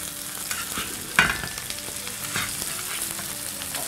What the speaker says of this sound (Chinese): 就把这个油浇到牛排上面